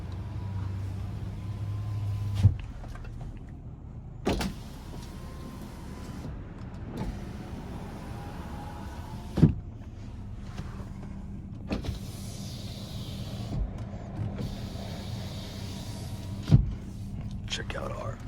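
Driver's side power window on a 2015 Dodge Grand Caravan BraunAbility wheelchair van with 14k miles, humming steadily as it runs up and down, each travel ending in a sharp click, with faint voice in the background.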